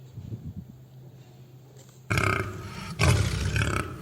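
A lion roars loudly and close by in two heavy bursts, the second one longer, over a low rumbling background.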